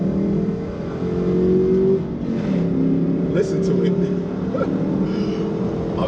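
A Dodge Durango R/T with an 8-speed transmission rumbles with a deep, steady engine drone that swells slightly as it revs, sounding close and loud throughout.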